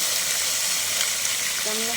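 Wet ginger, garlic and chilli paste hitting onions frying in hot oil brings a sudden hissing sizzle over a steady frying crackle, with a sharp spatter of tones near the end.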